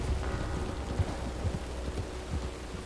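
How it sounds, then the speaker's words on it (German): A heavy video-game thunderstorm rumbles low and steady, with dense rain hiss and a few dull thuds of thunder rolling beneath it. "Heftiges Gewitter."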